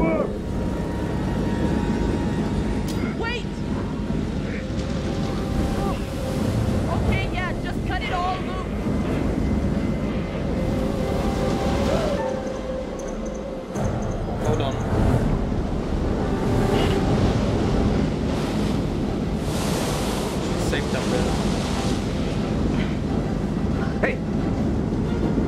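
Ocean waves roll and wash continuously through a horror game set at sea, a dense steady surge with wind noise, playing loud beneath the players' talk throughout.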